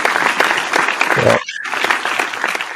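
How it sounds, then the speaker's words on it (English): A crowd breaks into a round of applause on a casual beer-tasting show, steady dense clapping filling the whole moment with only a very brief dip partway through. "a round of applause for him."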